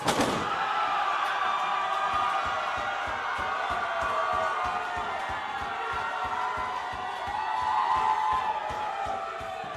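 At a wrestling show, a pro wrestler bangs rapidly and rhythmically on the ring boards, a long run of sharp thuds under a loud crowd roar that swells toward the end, with a voice occasionally audible.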